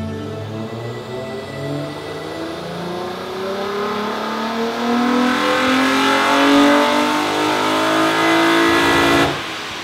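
A Nissan 350Z revs hard on a dyno after nitrous, ignition timing and fuel corrections, its engine note climbing steadily in pitch and loudness for about nine seconds before cutting off abruptly near the end, with no talk over it.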